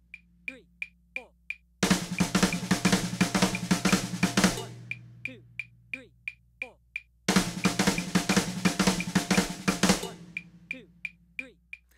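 Drum fill on snare and kit, played twice: a flam followed by a diddle opened up wider than written, dense rapid strokes over a steady click, with sparse ticking between the two passes.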